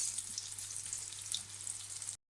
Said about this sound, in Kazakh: Қызылшадан жасалған котлеттерді де дәл солай қуырып, қызарғанша пісіретін боламыз.